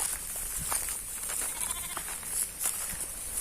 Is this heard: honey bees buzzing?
no